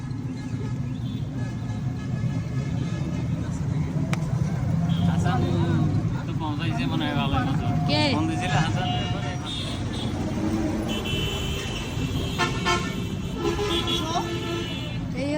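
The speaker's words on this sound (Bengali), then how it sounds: "পায়রা চত্বরের দিকে একটু জ্যাম হয়" Congested road traffic near Payra Chattar: engines rumble steadily while several car and vehicle horns toot and blare at close and middle distance, with people talking under the din.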